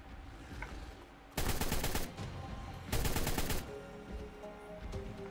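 Gunfire from the video game Ark Survival Evolved comes in two loud bursts of rapid automatic fire, each lasting under a second, over a steady background of game ambience.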